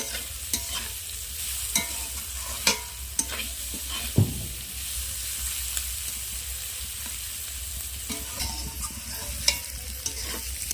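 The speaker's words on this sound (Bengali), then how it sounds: "ক্যাপসিকাম গাজর আমি হালকা আঁচে ভালো করে একটু ভেজে নেব" Capsicum and carrot frying over low heat in a pan, a continuous gentle sizzle broken by occasional sharp spatula taps and scrapes as the vegetables are stirred, with no one talking.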